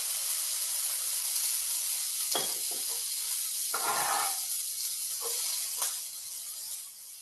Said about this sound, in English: we'll start sauteing that